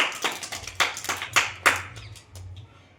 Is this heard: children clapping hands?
yes